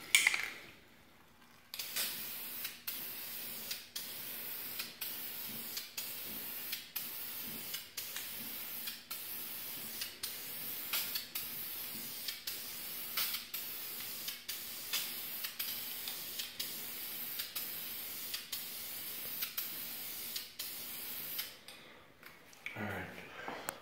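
An engine cover for an 11th-generation Toyota Corolla gets a final coat of spray paint: a steady, close hiss lasting about twenty seconds, broken by faint regular ticks.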